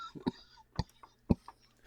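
Several short, dry coughs follow a hit from a cannabis vaporizer, three sharp bursts about half a second apart with fainter throaty sounds between them, close and quiet.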